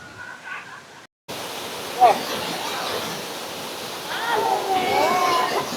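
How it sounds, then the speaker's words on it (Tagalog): Bokong Falls in Sagada, a small waterfall, pours with a steady broadband rush that swells louder toward the end after a brief cut, heard close with no one speaking. "grabe yung ragasan ng tubig niya"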